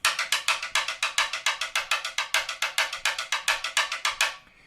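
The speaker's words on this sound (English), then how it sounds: "the cascara pattern, again, it sounds like this" Crisp, hard clicks strike the shell of a timbale in a cascara pattern, a fast, steady stream of even eighth notes, bright and close, ending abruptly.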